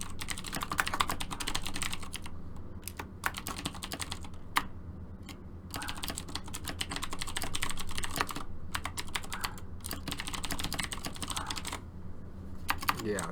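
Computer keyboard typing in steady bursts of close, clicky keystrokes with brief pauses, over a low background hum, with no talking.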